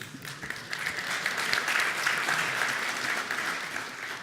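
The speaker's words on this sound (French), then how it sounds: "c'est gentil de m'applaudir avant la première démo." Warm audience applause from a conference crowd before a presenter's first command-line demo, swelling in the middle and holding at a moderate level, with a few sharper individual claps near the start.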